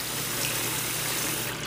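Hot water running from a tap into a sink, a steady, loud rushing hiss with no pauses and no talking.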